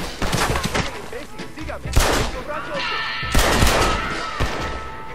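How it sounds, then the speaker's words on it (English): Sniper rifle shots fired in Deadeye mode in a video game: loud, sharp cracks and booms over a busy backdrop of game sound, with a few heavy blasts spread across the moment. "Let's get out a sniper rifle and go into Deadeye"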